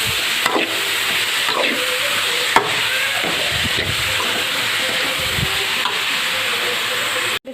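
Cabbage and capsicum sauté in a hot pan for egg fried rice, with a loud, continuous sizzle and repeated scraping strokes of a spatula stirring the vegetables.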